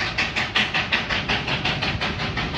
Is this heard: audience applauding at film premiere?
no